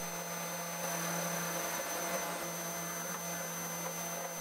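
A home-built CNC machine with weak stepper motors and a 1.5 mm tool carves a lens, giving off a steady electrical whine and hum with a constant tone and no pauses.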